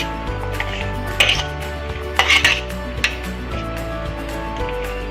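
Utensils clink and scrape against a bowl as sliced cabbage, carrots and other vegetables for pakoras are tossed and stirred, with a few sharper clatters over a steady low hum.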